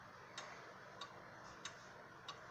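A Junghans mid-century modern chrome wall clock with a pendulum ticks softly and evenly, four faint clicks at a steady pace over quiet room hiss, with no voices.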